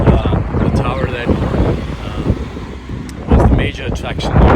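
Strong wind gusts outdoors in Lusail, Qatar, roaring steadily across the microphone with rushing buffeting throughout and a louder surge near the end, with people talking faintly underneath.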